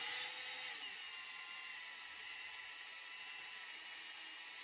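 A power drill with a drill bit runs continuously in a garage, making a steady, close, high whirring whine with no pauses.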